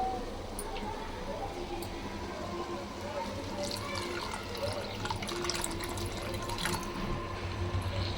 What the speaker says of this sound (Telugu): కొన్ని నీళ్లు పోసుకోండి.